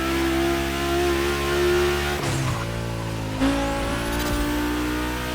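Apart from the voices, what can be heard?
Porsche 965 Turbo and Audi Coupe Quattro engines revving, from video game The Crew Motorfest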